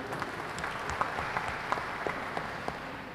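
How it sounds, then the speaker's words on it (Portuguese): A congregation applauds the sign language interpreter at a solemn session celebrating the Assemblies of God centenary, continuous moderate clapping from a large room with scattered sharper claps standing out. "Agradecer a presença da Yatsa, nossa intérprete de Libras. Uma salva de palmas também."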